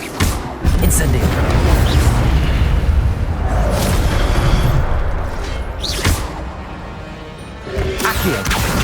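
Fire spell cast during combat in Hogwarts Legacy, a loud, sustained rumbling blast with crackling bursts and several sharp impacts scattered through it, under a voice calling out spells.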